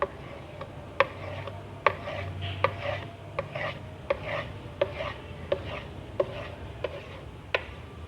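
A knife chops rolled, ghee-coated paratha dough sprinkled with dry flour into strips, sounding as a dozen crisp, irregular taps against a board over a low background hum.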